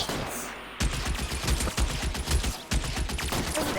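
Rapid gunfire in the video game L.A. Noire, a dense burst of loud, repeated shots crackling almost continuously for several seconds, with a brief pause in the middle.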